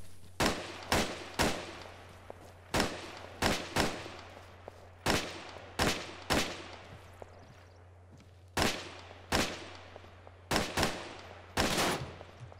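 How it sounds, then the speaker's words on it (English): Gunfire in Arma 3 aimed at distant targets through a holographic sight. Sharp, loud shots come singly and in quick pairs or triplets, each with a short echoing tail, with no talking. "Shooting at this distance with a holographic isn't that easy."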